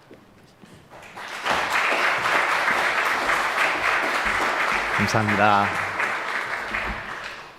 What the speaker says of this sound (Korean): 우리 목사님 환영하면서 박수로 하나님 앞에 영광 돌리겠습니다